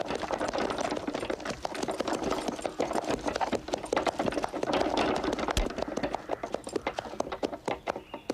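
Horse hooves clip-clop steadily on a hard surface in a Sherlock Holmes drama, a continuous rapid clatter of many hoof strikes, moderately near, with no talk over it.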